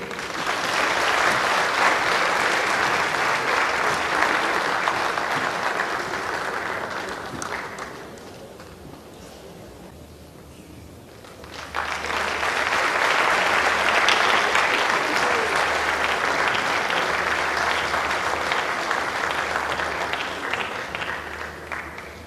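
A large audience applauds at the Ecrans Noirs film festival ceremony in July 2014, loud sustained clapping that dips briefly in the middle before swelling again and continuing to the end.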